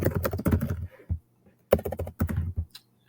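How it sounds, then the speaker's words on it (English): Quiz instructions are typed on a computer keyboard in quick runs of close, clicky keystrokes, with a short pause and then another burst of typing. "you can of course type in some quiz instructions here"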